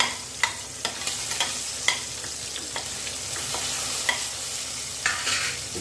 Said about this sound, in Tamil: பூண்டு வெங்காயம் தக்காளி எல்லாமே நல்லா வரைஞ்சிருக்கு